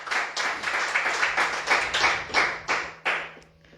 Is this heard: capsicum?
no